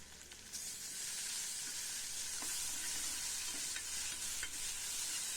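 Chopped tomatoes sauté with salt in a hot pan for a bitter gourd tamarind curry, giving a steady, close sizzle with occasional soft stirring scrapes throughout and no talking.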